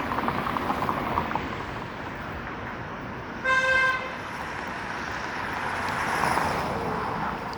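A car horn gives one short, loud honk at night on a downtown Toronto street, set against a steady background of city traffic.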